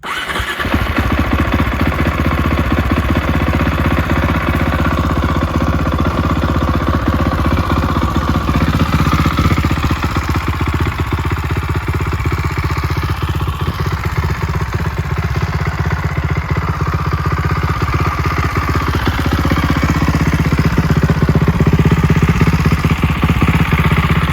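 A Cannondale E440 motorcycle engine fires up and then idles loudly and steadily, with a rough, aggressive mechanical clatter running throughout and no talk.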